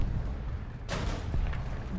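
Tank cannon fire in a video game: a single sharp, heavy shot cracks out partway through, followed by a short rumbling decay over quiet engine drone.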